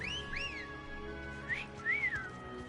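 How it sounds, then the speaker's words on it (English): A two-note rising-and-falling wolf whistle summons a Chocobo in the video game Final Fantasy 16. It sounds twice, clear and moderately loud over a soft ambient game background, with no speech. "We really use the wolf whistle to call our Chocobo?"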